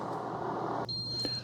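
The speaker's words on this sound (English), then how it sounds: "so it beeps at us, lets it know it's done." A Ninja DualBrew CFP201 12-cup coffee maker signals the end of brewing with a single high, steady electronic beep. The tone starts partway through, sounds clear and close, and holds over a quiet kitchen background.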